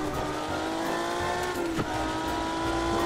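A Ferrari sports car accelerates in a drag race video game, its engine holding a loud, steady, high-revving whine with a brief tire-like chirp midway.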